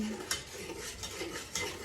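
Lemon pie filling being stirred in a saucepan with hot water, a soft scraping swirl with a couple of sharper clinks of utensil against the pan, close and fairly quiet.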